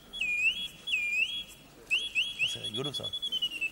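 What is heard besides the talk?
silver singing bird box whistling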